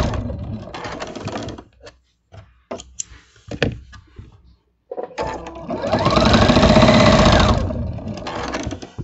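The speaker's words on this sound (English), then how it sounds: "Now that is some incredibly quick quilting." Sewing machine quilting a Christmas quilt: choppy handling and fabric noises at first, then a loud, sustained mechanical whir from the machine running for about three seconds near the end.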